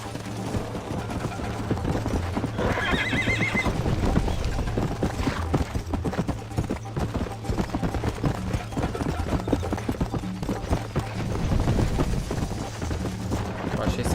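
A horse gallops with rapid rhythmic hoofbeats in the video game Red Dead Redemption, with a brief neigh early on, while someone talks over the action.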